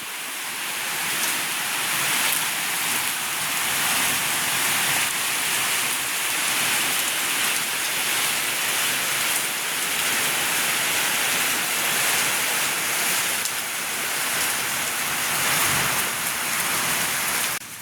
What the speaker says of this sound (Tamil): அப்படியே பாருங்க நல்ல மழை பெய்யுது